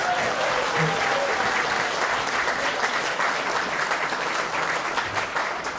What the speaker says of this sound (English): Let's give all the volunteers a big round of applause.